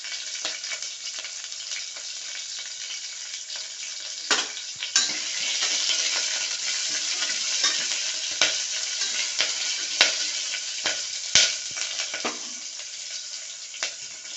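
Whole cloves and a bay leaf fry in hot oil for a channa masala gravy. The sizzle is loud, close and continuous, with occasional stirring clicks and scrapes against the pan.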